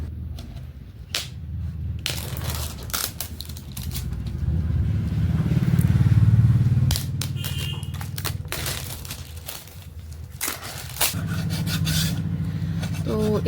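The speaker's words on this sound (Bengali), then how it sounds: "এখানে স্লেটের চারপাশে যে কাঠের বর্ডারটা দেওয়া, সেটাতে আমি একটু স্যান্ড পেপার দিয়ে ঘষে নিচ্ছি" Sandpaper rubs the wooden border around a small school writing slate in irregular gritty scrapes, some short and some longer, with a few knocks and handling noises between them.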